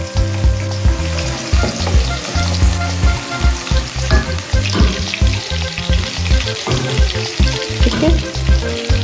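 Garlic paste frying in a pan for a chicken feet dish, with a loud, continuous close sizzle and rhythmic stirring scrapes throughout, no talk.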